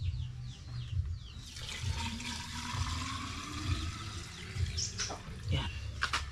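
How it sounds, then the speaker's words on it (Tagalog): Water is poured into a container, a splashing, gurgling stream that rises and falls over several seconds, with low thumps and background noise underneath. "tapos lagyan natin ng tubig"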